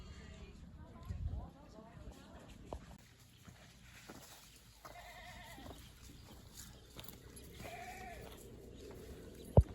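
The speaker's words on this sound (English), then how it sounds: "Goats are eating those trees over there." Goats bleating on a farm, several wavering calls rising over faint rustling and footsteps, with people talking quietly in the background and a sharp knock near the end.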